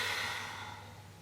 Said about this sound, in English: Take a big breath in, and take a really big breath out.